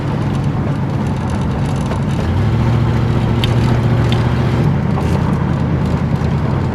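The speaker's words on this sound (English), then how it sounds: "Shifts a little better already, I can tell, on the 1-2 shift." Interior drone of a Ford LTD on the road, its engine note dropping and settling as the automatic transmission shifts from first to second gear, steady and fairly loud with no talk.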